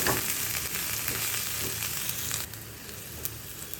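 Finely chopped curry leaves, about eight to ten from one sprig, hit hot oil in a pan while cooking spring roll filling, giving a steady, close, bright sizzle and crackle throughout, with no talking.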